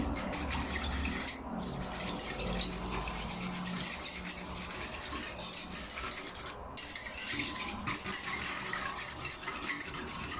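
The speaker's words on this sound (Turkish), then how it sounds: "Güzelce karıştıralım." A tangerine and sugar mixture for lokum is stirred steadily in a pot, giving a continuous scraping, rubbing sound of utensil against the pot, close and fairly even throughout.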